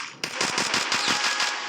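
Rapid gunfire from a shotgun-style weapon in the battle royale game Free Fire, a dense burst of about eight quick, loud shots in steady succession with no talking.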